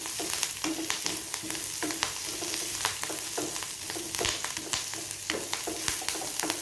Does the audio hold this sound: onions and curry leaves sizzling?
yes